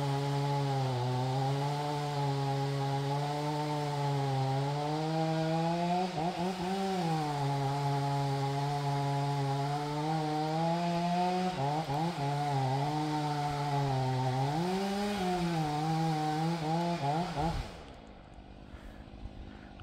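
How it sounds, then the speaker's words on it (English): A chainsaw drones steadily in the distance at the base of a dead tree, its pitch rising and falling as it bites into wood, then cuts off near the end. "you can hear someone at the base of the tree with the chainsaw"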